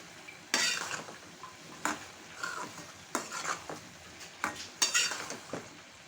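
Vegetable pasta being stirred in a pan with a spoon, after ground panch phoron spice was added: intermittent scraping clatters of utensil on metal over a soft sizzle, close and uneven, no voices.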